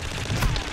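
Gunfire in the Call of Duty DMZ video game, a dense burst of rapid shots and booms packed into under a second, loud and close.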